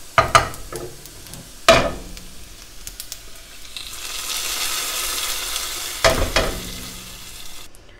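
Fried onions and curry leaves tipped into a sizzling Kerala-style country chicken curry: sharp bursts of sizzle at the start and again near the end, with stirring scrapes and a steady frying hiss between them, close and clear with no talking.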